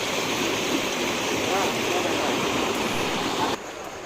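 A fast river current rushing over rocks, a loud continuous broadband roar of churning water close by that drops abruptly near the end, with no talking.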